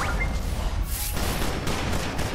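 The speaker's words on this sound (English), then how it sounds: "Why is my guy shooting at a bomb?" Rapid gunfire from a character shooting in the DC Universe video game, a dense crackling burst that keeps going for the whole stretch over a low rumble, with no voices.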